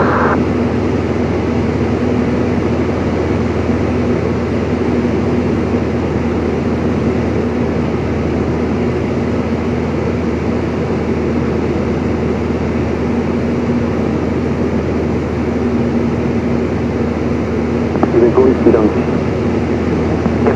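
Steady, loud engine drone inside the cabin of a DR221 light aircraft in flight, an unbroken hum with a constant low tone that runs throughout and never lets up.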